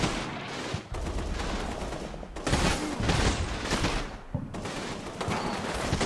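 Medium machine guns and other gunfire rattle through a World War II battle in the Combat Mission game, sustained crackling volleys with dense bursts and short pauses, moderately loud and without voices.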